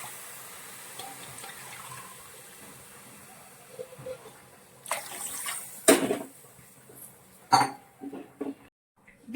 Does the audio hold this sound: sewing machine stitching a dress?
no